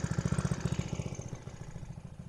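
A small engine on a motorized cooler putters at idle with a rapid, even chug up close, then the pulsing softens and smooths out as it runs on.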